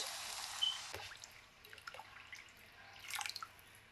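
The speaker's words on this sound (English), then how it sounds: "Pour in 5 cups of water, just enough to cover the meat." Water trickles and drips into a pot of fried mutton in short, uneven bursts, fairly faint and close, with a brief splash near the end.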